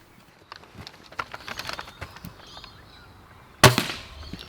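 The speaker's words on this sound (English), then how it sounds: "I'm gonna fire 15 standard Worker Darts and then 15 bamboo Worker Darts" A Nerf blaster fires a single standard Worker Dart during a chronograph test, giving one sharp, loud burst near the end, heard alone against faint background noise.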